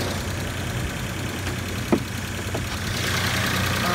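An Acura SLX (Isuzu Trooper) engine, greasy and of unknown maintenance history, idles steadily up close with a faint light tick running through the rumble.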